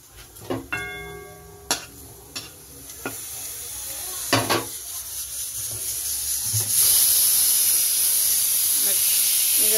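Whole spices are tempered in hot oil for a curry, giving a steady close sizzle and hiss that swells louder toward the end, with a few sharp knocks of a utensil at the start.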